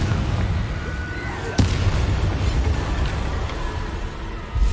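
An explosive Confringo spell bursts in Hogwarts Legacy, a sharp blast near the start followed by rumbling game sounds and another crack at the end, loud and close.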